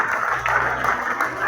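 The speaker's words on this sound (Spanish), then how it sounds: "Dale una ofrenda de aplauso al Señor." Church congregation clapping as an offering of applause to the Lord during a Spanish-language worship service, a steady dense wash of many hands lasting throughout, moderately loud, with no talk.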